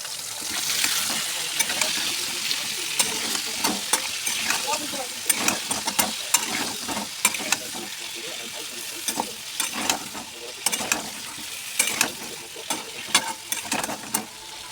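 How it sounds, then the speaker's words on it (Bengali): Potato pieces fry in hot oil for chicken kosha, a loud, dense crackling sizzle that runs throughout, with frequent spits and pops and the odd clink of a utensil. "আলুটা একটু লাল করে ভেজে নেব।"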